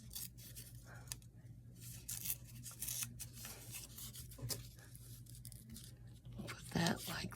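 Craft paper being torn by hand for an embellishment, giving faint, close ripping and rustling bursts that come in short irregular strokes, with quiet handling noises in between.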